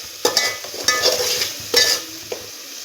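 Ground masala paste frying and being stirred in hot oil for spicy Kolhapuri misal, a steady close sizzle broken by several sharp scraping stirs of a spoon against the pan, with no talk.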